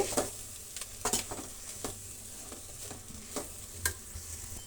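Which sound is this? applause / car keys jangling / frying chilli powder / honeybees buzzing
frying chilli powder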